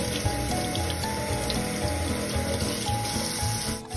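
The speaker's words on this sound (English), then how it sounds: "Don't wash broccoli like this." Broccoli is rinsed under a running kitchen tap, a loud, steady gush of water splashing into a sink without a break.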